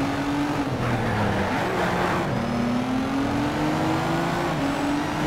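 A Ford GT race car in the Need for Speed Shift video game holds a steady, loud engine drone with a slowly rising pitch as it accelerates, with tire noise and light skidding underneath and no talking.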